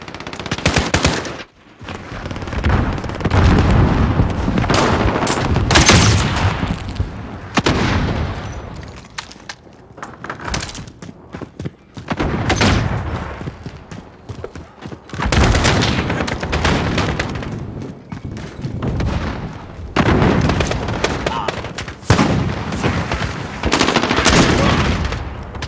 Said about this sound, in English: They're shooting people in the face.